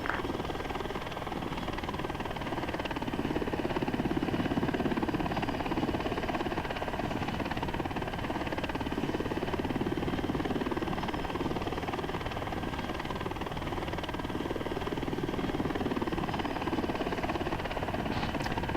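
Helicopter in the military simulation game ArmA 3 flies steadily overhead, a continuous loud rotor and turbine drone that holds constant for the whole stretch with no talk.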